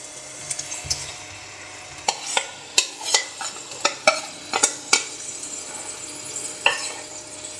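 Sliced onions frying in hot oil for a chicken curry, a steady sizzle broken by a run of sharp utensil clacks and scrapes against the pan, close and alone without voices.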